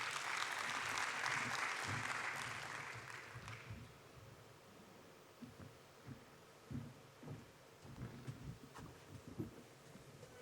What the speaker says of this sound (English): So please give a round of applause for my colleague Venkat.